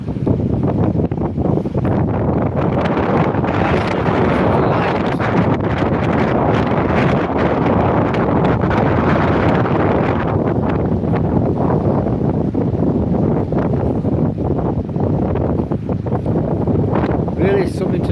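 Wind gusts buffet the microphone at the seaside in Withernsea on a sunny, blustery day, a loud, constant rushing roar that rises and falls in waves.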